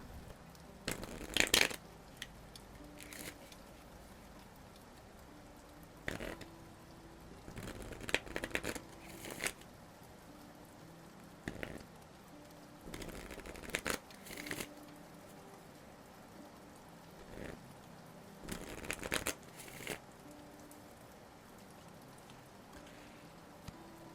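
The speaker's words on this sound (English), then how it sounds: "I'm going to pull some Moon Oracle cards" Moon Oracle cards are shuffled and drawn in soft, close, quiet bursts of riffling and papery slaps spread across a hushed background, each flurry lasting a second or two.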